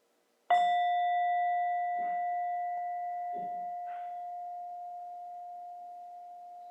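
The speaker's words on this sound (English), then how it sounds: "Just going to offer a bell to begin." A meditation bell struck once, its clear pure tone ringing out and fading slowly over several seconds, with faint soft knocks in the quiet room.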